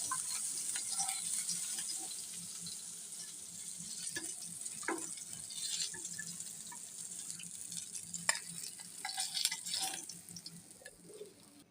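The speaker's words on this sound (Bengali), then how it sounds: "আমাদের মাছগুলো উঠিয়ে পাল্টে ভেজে নিলাম" Boal fish pieces frying in oil in a pan, turned partway through: a fairly quiet, continuous sizzle scattered with small crackles and pops, with no talk.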